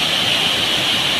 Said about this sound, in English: water is flowing very deep